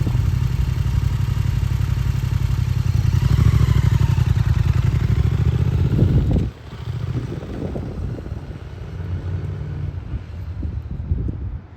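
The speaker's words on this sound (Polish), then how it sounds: "Hamowanie do zatrzymania we wskazanym miejscu." A motorcycle on a driving-exam course runs at about 50 km/h with a loud engine drone and wind rumble, then brakes to a stop at a marked point, the engine note dropping to a rougher, quieter idle.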